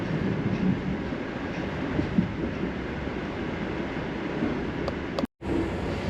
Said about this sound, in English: This freight train is slower than us.